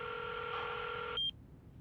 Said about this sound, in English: A dial tone echoes through the quiet space before the call is answered.